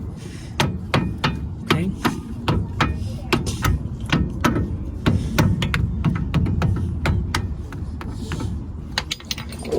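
Sharp metallic hammer strikes ring out in an irregular series while a brake caliper is knocked back on a 1993 GMC Sierra CK1500 pickup, loud and close, with a brief spoken word.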